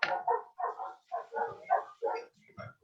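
A neighbour's dogs bark in a rapid, uneven string of muffled woofs heard from a distance, about eight or nine barks in close succession with short gaps, with no talk over them.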